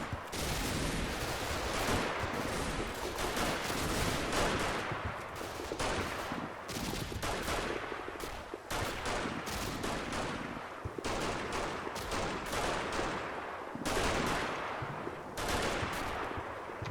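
Dense, continuous gunfire from the WWII tactical game Combat Mission Battle for Normandy in Normandy bocage country, with rapid overlapping rifle and machine-gun bursts and crackling volleys that fill the whole stretch without pause.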